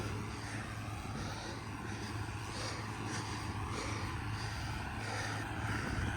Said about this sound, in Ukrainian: трактор на швидкості